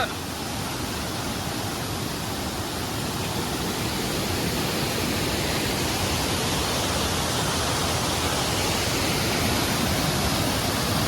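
Hidden waterfall in Udupi roaring continuously, a dense broadband rush of falling water, loud and steady throughout the whole stretch with no breaks.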